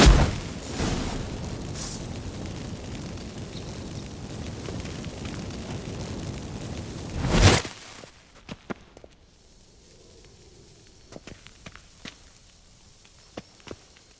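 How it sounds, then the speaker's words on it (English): Magic fireworks set off by activated incense in The Witcher 3 give a dense, roaring crackle for several seconds that ends in a loud burst. Quiet follows, broken by a few scattered soft pops. "Get ready for some magic fireworks."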